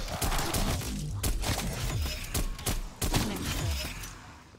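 Rapid bursts of gunfire in Call of Duty Cold War Zombies, a loud, dense fusillade of overlapping shots with brief pauses, continuous for several seconds.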